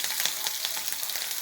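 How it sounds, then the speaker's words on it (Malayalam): Garlic fries in hot oil for a coconut-based fish curry, giving a dense, bright crackling sizzle with rapid small pops, steady and close throughout. "എണ്ണ ചൂടാവട്ടെ. ചൂടായി. നമുക്ക് വെളുത്തുള്ളി ഇട്ട് കൊടുക്കാം."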